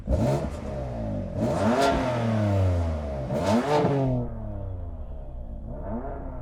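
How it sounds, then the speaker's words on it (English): A tuned BMW M4 engine revs hard in repeated bursts, each climb falling back to a throaty idle between blips, loud and close with no voices over it. "let's have a listen to that BMW."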